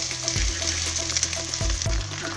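Rice frying in a hot pan for chicken fried rice, a constant close sizzle broken by periodic low thuds and scrapes of stirring, with no voices.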